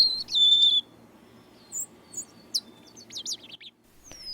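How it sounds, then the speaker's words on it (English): A golden-crowned sparrow sings in a winter forest preserve, a clear descending whistled phrase up front followed by scattered faint chirps from other birds over soft background hiss. "we hear a golden-crowned sparrow"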